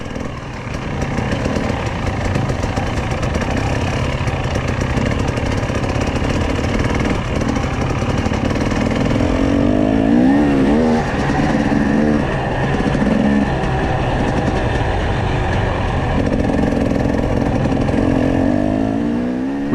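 A two-stroke adventure motorcycle rides around the Sea of Galilee, its engine buzzing loud and steady for about twenty seconds with rising and falling revs mid-ride and wind rush underneath.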